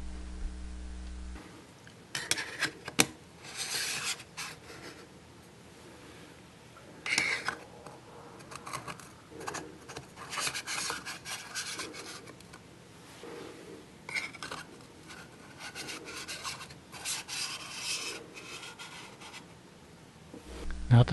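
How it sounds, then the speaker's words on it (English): Three neutral density filters are screwed and stacked onto a camera lens, giving intermittent close scratchy clicks, taps and handling rustles in irregular bursts with small gaps between them. "now I'll put on the 3 neutral density filters"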